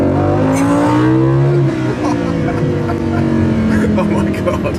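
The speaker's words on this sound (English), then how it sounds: "Yeah, you feel the 610 brake horsepower." A 2015 Lamborghini Huracan with 610 brake horsepower accelerating, its engine note rising in pitch through a gear then settling into a steady loud drone, heard from inside the car with a voice over it.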